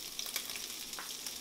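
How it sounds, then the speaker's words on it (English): Onion sizzling and crackling steadily as it fries in a pan for a pasta sauce, with a brief stir partway through. "We're going to add our onion."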